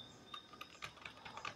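Quiet, rapid keystrokes tap on a computer keyboard in an irregular stream of light clicks, close and faint, with no voices.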